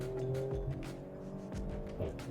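A Maserati Grecale Trofeo accelerates hard around a corner, its engine and exhaust rising through the revs with a brief dip at a gear change, fairly close and steady, with no talk.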